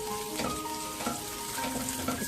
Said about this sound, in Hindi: इसको हम थोड़ा सा फ्राई करेंगे।